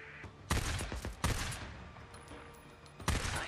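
Gunfire in the video game Days Gone: several sharp, loud shots and bursts crack at irregular intervals over a steady background rumble, with a final burst near the end.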